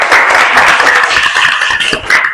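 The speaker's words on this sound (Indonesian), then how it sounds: "kasih aplaus buat teman-temannya" A room of classmates claps for their peers in a school class, giving a loud, dense burst of applause that holds steady for a couple of seconds.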